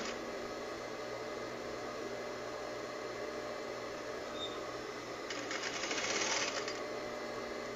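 A sewing machine stitches a seam on a draped blouse, a continuous faint whirring motor drone with a slightly louder stretch near the end, no talking.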